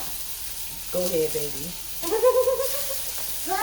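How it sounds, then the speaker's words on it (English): Steady hot-oil sizzling and crackling of chicken tenders frying in a skillet fill the background while someone speaks briefly over it. "we're going to put them down into our skillet. It's sizzling."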